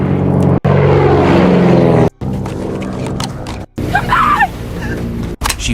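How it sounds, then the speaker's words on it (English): A propeller airplane passes overhead above a desert island beach, a loud droning engine roar broken by abrupt cuts, mixed with music and dramatic sound effects. "Suddenly, a plane flies overhead."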